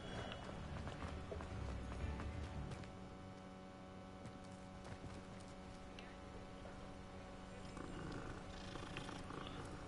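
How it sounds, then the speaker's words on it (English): In the Hogwarts Legacy video game, a cat purrs steadily while being petted, a soft low rumble that stays faint under a wash of ambient background noise. "pet the kitty cat."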